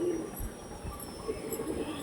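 Young Andhra pigeons of the Kalshira type, kept for sale, give a couple of soft low coos at close range against faint background hiss.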